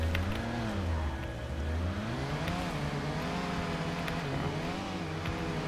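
A vehicle's engine in the Satisfactory video game drones continuously and fairly loud, with a low, wavering pitch that rises and dips as it is driven, and no voices over it.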